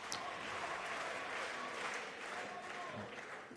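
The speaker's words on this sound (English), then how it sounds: "They're cheering for him." Crowd applause and cheering for a candidate on French presidential first-round results night, a continuous dense wash of clapping and voices, fairly distant and steady throughout.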